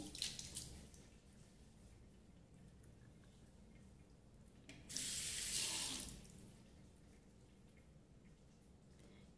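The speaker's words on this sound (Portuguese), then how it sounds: "vamos estar aqui molhando o rosto, né? Com água fria." Cold tap water runs into a sink while a face is splashed for at-home skin cleansing. A brief, loud gush of running water rises over a quieter background of trickles and splashes, and no one speaks.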